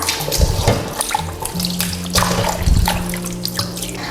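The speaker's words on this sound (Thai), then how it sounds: "เรากลับเข้าไปแล้วเราล้างค่ะ ให้ล้างน้ำสักสองรอบค่ะ" Catfish rinsed with water: splashing, pouring and sloshing come in uneven bursts with short drips between them, close and fairly loud.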